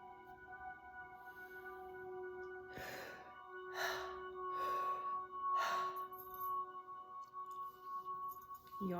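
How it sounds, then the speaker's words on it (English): A person yawns during a mindful daily relaxation routine, producing several soft, breathy gasping exhalations in quick succession, close up and quiet against a steady faint background hum. "Yawning is a form of purging,"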